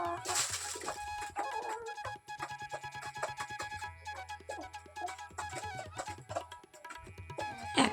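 Soft, quiet clucking from a few chickens, with scattered short calls over a faint, steady background.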